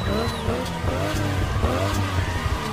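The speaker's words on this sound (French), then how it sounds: "je vous laisse apprécier le son de ce moteur magnifique" A car from the Fast and Furious films roars at high revs, its engine note rising and shifting steadily with a faint tire squeal at the start, loud and close with no talk.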